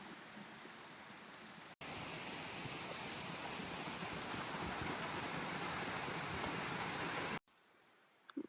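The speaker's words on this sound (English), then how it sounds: "here's the waterfall." Greenstone Falls in the Porcupine Mountains pours in a steady, loud broadband roar of rushing water close by, cutting off abruptly near the end to quieter surroundings.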